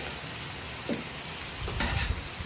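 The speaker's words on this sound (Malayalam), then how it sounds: "സവാളയും കൂടി ഇട്ട് നന്നായിട്ട് ഇളക്കും." Onions sizzle steadily in a pan while being stirred for biryani, a continuous hissing fry broken by a few soft scraping stirs, close and alone without talk.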